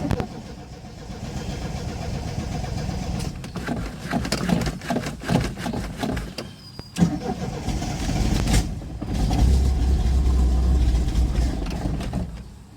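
A Triumph TR7 engine cranks and stumbles while starved for fuel, with a rough churning rumble under bursts of starter and engine noise that swells near the end as it catches briefly.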